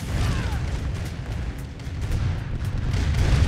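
Cannon towers and units trading fire in C&C Red Alert, a dense rumble of booming shots and impacts layered over each other, loud and continuous through a busy battle with no talk.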